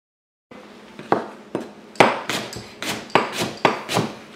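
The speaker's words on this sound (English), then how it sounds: "Just dicing your apple and your pepper about a quarter inch." A knife dices apple and red pepper into quarter-inch pieces on a cutting board, giving a steady series of crisp, close chopping knocks that speed up into an even rhythm, with no talking.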